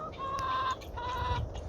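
A hen with missing feathers on a farm in cold winter weather clucking in two drawn-out, rising calls, near and moderately loud over low background rumble.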